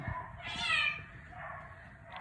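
A rescued cat gives a drawn-out, plaintive meow, then a softer second cry and the start of another, close and fairly quiet with faint handling noise beneath.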